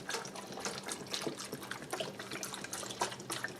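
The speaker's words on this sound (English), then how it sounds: "just pour that right in over the potatoes and the onions." Chicken stock poured from a 32-ounce carton into a large Dutch oven over potatoes and onions, a steady close liquid splash and trickle running unbroken throughout.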